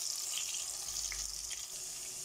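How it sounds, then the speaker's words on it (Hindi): Soybean chunks frying in hot oil in a pan: a steady, quiet hiss and sizzle that carries evenly throughout, without talk. "तो इन्हां नूं आपां थोड़ा जिहा फ्राई करांगे हुण तेल विच पा के।"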